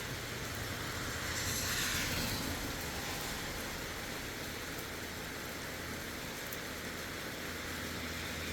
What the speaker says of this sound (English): I'm just listening to the rain.